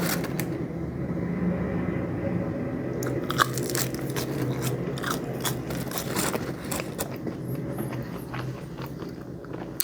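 Someone crunches and chews A&W fries and onion rings close to the mic, a run of crisp bites and chewing with faint background noise and brief low talk.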